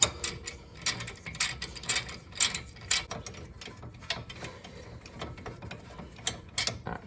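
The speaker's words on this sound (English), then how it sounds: "Loosen that bolt." A ratchet loosening a brake caliper bolt on a 1997 Honda CR-V: a rapid series of close, crisp metallic clicks in uneven bursts, with light rattling of tools and parts between strokes.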